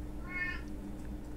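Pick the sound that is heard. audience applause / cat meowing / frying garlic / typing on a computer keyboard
cat meowing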